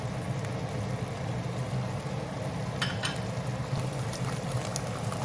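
Sauce for a tomato and scrambled egg dish cooks in a pan with a steady, soft sizzle and bubbling, broken by a few faint clinks partway through, with no talking.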